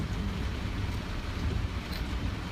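Rain falling outside a parked car, a steady muffled hiss and low rumble heard from inside the vehicle, continuous with no voices.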